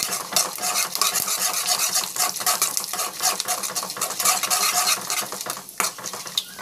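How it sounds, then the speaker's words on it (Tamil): Mustard seeds and cumin fry in a pan with loud, continuous crackling and sizzling, while a utensil stirs and scrapes against the cookware throughout. "இது கொஞ்சம் ஃப்ரை ஆகும். கடுகு, சீரகம், இதெல்லாம் வந்து"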